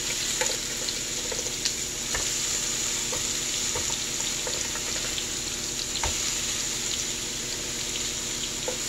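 Ground turkey patties fry in a pan with a steady, close, continuous sizzle. Faint clicks and taps come through now and then.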